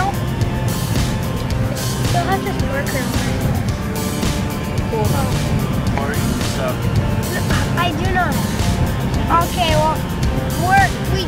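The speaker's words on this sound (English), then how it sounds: "just got in the car on our way to Burlington" Inside a moving car on the road to Burlington, a steady, loud engine and road rumble fills the cabin throughout, with voices faintly audible over the drone.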